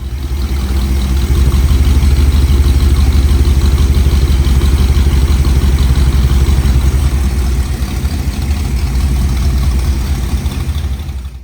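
Cleet's Blackwing engine runs close and loud at a steady idle, a continuous low rumble with light mechanical clatter and no pauses.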